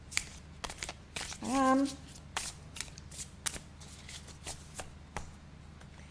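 Tarot cards are shuffled by hand at a table in a series of quick riffling snaps and soft slaps, close and steady, with a brief spoken word and one short tonal sound partway through.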